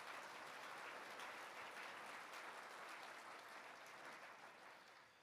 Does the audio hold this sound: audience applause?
yes